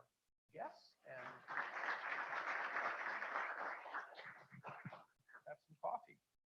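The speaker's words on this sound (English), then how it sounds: "why don't we have a big round of applause for our guests" A conference audience at a financial stability and monetary policy event gives a round of applause for the guests, a sustained wash of clapping that swells and then thins into scattered claps as it dies away.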